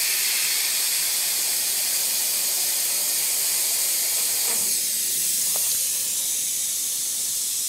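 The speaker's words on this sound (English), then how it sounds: "carefully spray along that edge." Steady, fine airy hiss of an airbrush spraying black paint continuously, with a couple of faint brief shifts, no talking.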